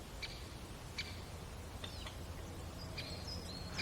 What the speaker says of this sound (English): Woodpeckers are also known for their distinctive calls, which can be heard from long distances.